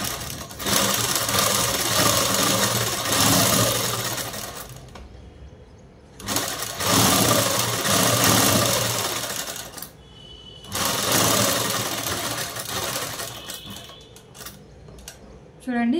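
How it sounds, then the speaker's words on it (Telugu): A sewing machine stitches a blouse in long, fast whirring runs separated by short pauses, loud and close, with small mechanical clicks between runs. "ఇలా పిన్నులు పెట్టుకున్న తర్వాత ఇప్పుడు అనేది కుట్టేసుకున్నామండి."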